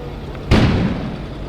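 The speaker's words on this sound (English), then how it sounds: "An explosion suddenly occurred outside." An explosion outside in the video game Kona: a single sudden boom with a broad burst that trails off over about a second, heard over a steady low background.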